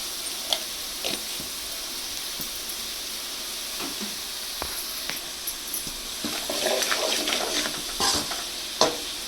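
Poha with turmeric powder frying in a pan makes a continuous close hiss with scattered scrapes and taps of the stirring spoon, growing a little busier toward the end, with no talking.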